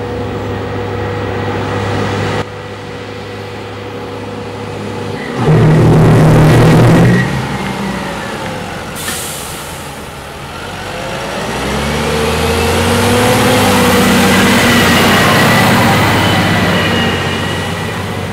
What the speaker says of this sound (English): we'll do a 50 kilometer hour brake test